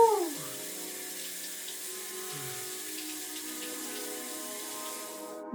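A cold shower runs with a steady hiss of spraying water, a few gurgling pitch shifts near the start, then continuous even flow that cuts off at the end.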